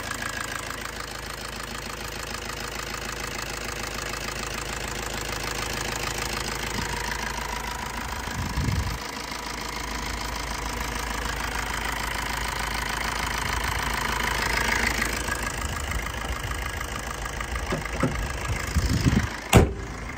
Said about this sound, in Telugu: ఇంజిన్ అయితే పర్ఫెక్ట్ కండిషన్లో అయితే ఉంది.